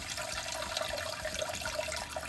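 A bidet sprays water in a steady hissing stream, close and continuous with a faint watery gurgle beneath, no voices.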